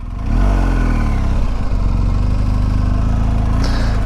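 A motorcycle pulls away hard and accelerates, its engine note climbing in a loud, close rev before holding a steady roar.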